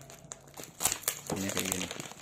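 Plastic packaging around a motorcycle mudguard for a Yamaha MT25 / R25 is torn and crinkled open at close range, a quiet run of sharp crackles and rustles that grows busier toward the end.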